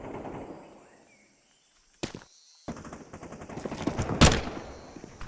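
Gunfire on the Ancient map in Counter-Strike, quick rifle bursts that crack in sharply after a near-silent pause and build to a loud cluster of shots, with game ambience around them.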